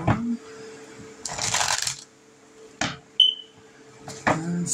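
Tarot cards being shuffled by hand in a quiet room, a few short papery riffling bursts separated by pauses, with light taps and clicks in between.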